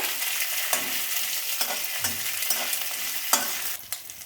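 Chana dal and green chillies stir-fried in a pan, a steady close sizzle broken by repeated scraping strokes of a spoon at a loose, uneven rhythm.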